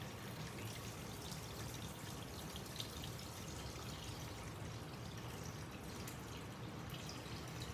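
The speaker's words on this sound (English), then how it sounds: "and then you want to pour water into your container." Water, about a gallon, poured into a container, giving a steady, close, continuous wash of splashing and trickling with no voices.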